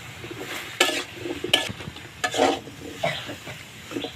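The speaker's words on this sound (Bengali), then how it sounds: "হলুদ দেবো নাড়াচাড়া দিয়ে দিচ্ছি এখন" Taro and potato curry with turmeric is stirred in a pan. Sharp spoon scrapes and clinks come in irregular strokes over a soft sizzle, close by, with no talking.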